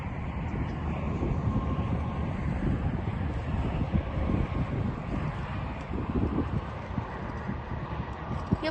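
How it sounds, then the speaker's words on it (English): Steady wind blasts across the microphone beside a Sky Rover KnightVision RC helicopter drone, a dense, loud, continuous rumbling roar with gusty fluctuations throughout. "the wind is weak now, so we'll stop blowing"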